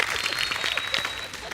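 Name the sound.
applause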